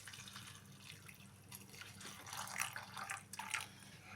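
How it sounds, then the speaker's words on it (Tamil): A small amount of water is poured onto radish in a bowl while making a radish and egg stir-fry, heard as a soft, quiet trickle and splash that builds briefly. "முள்ளங்கியில் தண்ணி ஊற்றிக்கலாம், கொஞ்சோண்டு"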